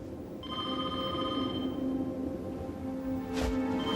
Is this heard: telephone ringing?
yes